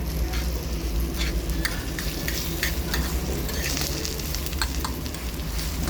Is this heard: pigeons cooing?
no